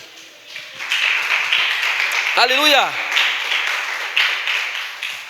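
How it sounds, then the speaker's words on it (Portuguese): Church congregation applauding and cheering during a worship service, a broad sustained wash of clapping across the clip with voices calling out over it and a brief sung or shouted exclamation in the middle. "Aplauda o Senhor em nome de Jesus"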